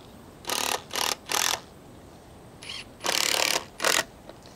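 Square drive 3-inch screws are driven into timber boxing for concrete pavers. Five short bursts of the driver whir in an uneven rhythm, close and fairly loud, with quiet pauses between them and no talk.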